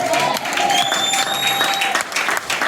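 Church congregation applauding during a sermon, dense steady clapping from a crowd filling the room, with someone's voice and a sustained tone cutting through the applause.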